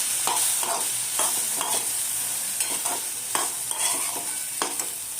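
Paneer roll stuffing sautéing with a pinch of salt in a pan, a continuous bright sizzle broken by rhythmic scrapes and stirs of a spatula, close and steady.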